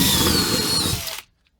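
A power drill whines at high speed close by, drilling out rivets in a 1977 Range Rover Classic rear floor for just over a second before abruptly stopping into silence.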